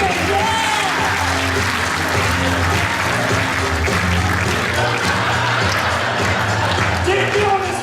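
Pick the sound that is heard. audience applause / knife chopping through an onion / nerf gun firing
audience applause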